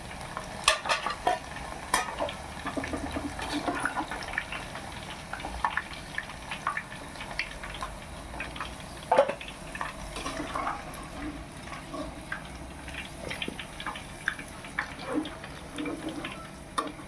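Drumsticks fry and get stirred in a pan, making soft, continuous sizzling with scattered scraping clicks and small pops, fairly quiet and steady throughout.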